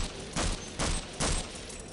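An SMG in Half-Life (1998) fires three short, evenly spaced bursts close up, each a quick dense crack of shots over a constant background hiss.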